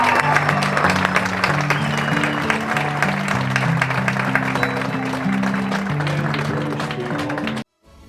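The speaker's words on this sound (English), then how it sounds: "Let's give our entire court another round of applause." Crowd applause at a Christian academy school game honouring the court, steady clapping over sustained low organ-like tones that cut off abruptly near the end.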